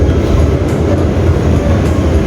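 An economy-class Tegal Bahari train rolls along the rails, a loud, steady interior rumble with a faint rhythmic clatter running throughout and no talking.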